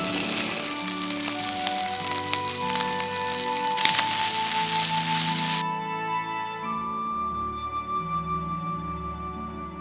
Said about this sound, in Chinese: 油热后下入腌好的虾尾